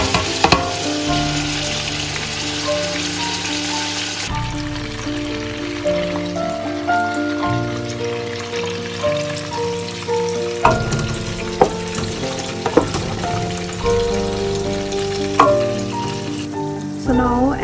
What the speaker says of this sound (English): our onions and our tomatoes are fried well